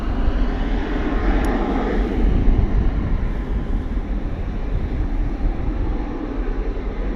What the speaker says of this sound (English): Embraer 175, of course, KLM City Hopper service from Bristol to Amsterdam multiple times a day.